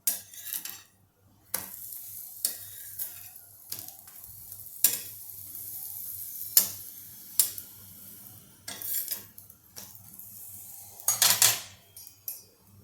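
Paratha fries in oil on a pan with a soft, steady sizzle, punctuated by sharp metallic clinks and scrapes of a utensil against the pan, close and fairly quiet.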